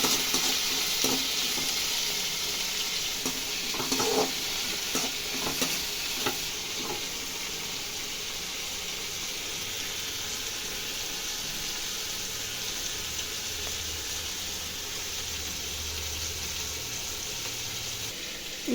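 Onion and tomato fry in a pan for a bitter gourd stir-fry, giving a steady, loud sizzle with scattered scraping stirs near the start, continuous and close throughout with no talk.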